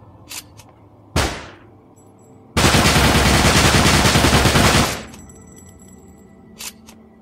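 Rapid gunfire from nano rounds in the video game Dark Matter: a sharp single shot, then a loud sustained burst lasting about two seconds, followed by faint clicks in a quiet interval.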